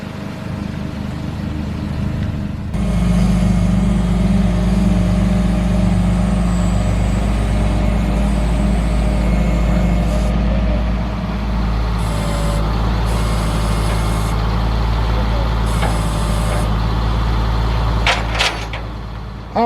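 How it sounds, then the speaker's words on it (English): Heavy tow truck engine rumbling and idling nearby while delivering a wrecked 2009 Toyota, loud and continuous, with a hiss of air brakes and a few clanks toward the end. "I got this tow truck coming up here"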